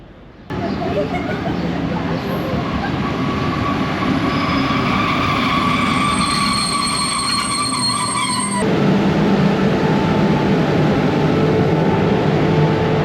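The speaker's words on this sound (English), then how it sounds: "Massive long freight train carrying some kind of, not sure if it's coal or some heavy goods." A long, steady rumble of a long freight train rolling past a station platform in Bosnia and Herzegovina, continuous and loud throughout, with a faint high squeal from the wheels.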